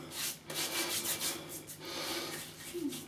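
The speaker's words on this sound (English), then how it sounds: "Right, so you just rub it in my hands." Proraso White pre-shave cream rubbed between wet hands, a steady close swishing and smearing texture lasting a few seconds, with no talking.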